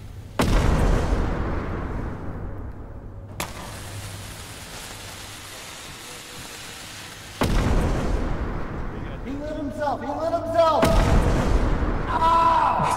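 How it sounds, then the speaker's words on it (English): Grenade detonations in a video game: a loud booming blast followed by a long rumbling decay, then another explosion and a sharp crack later, with a voice talking over the noise. "Oh, it's the grenade!"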